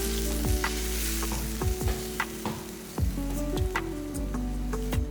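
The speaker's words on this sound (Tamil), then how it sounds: "இந்த பாலை இதில் ஊற்றுவேன்." Coconut milk goes into an eggplant curry sizzling in a pan. The sizzling and bubbling run steadily, with scattered pops and spoon clinks close by.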